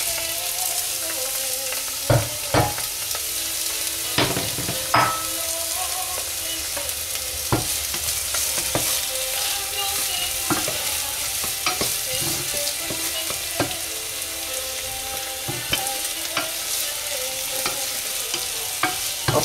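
An onion frying in oil while being stirred, a steady crackling sizzle broken by frequent sharp scrapes and clinks of the utensil against the pan, close and alone.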